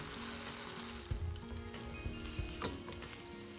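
A Monte Cristo sandwich frying in a pan gives off a steady, fairly quiet crackling sizzle with occasional sharper pops and spatters, heard close and without talk.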